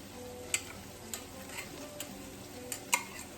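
Chayote and squash go into a simmering pot of turkey albondiga soup, heard as a soft, low bubbling bed broken by several faint clicks and light taps from utensils against the pot.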